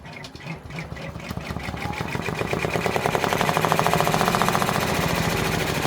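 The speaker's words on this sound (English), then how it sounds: "That's going to do 16 minutes of stitching." A multi-needle embroidery machine stitches the top of a freestanding pumpkin quilt block, its needle hammering in a fast, steady mechanical rattle that builds in loudness and stays close and continuous.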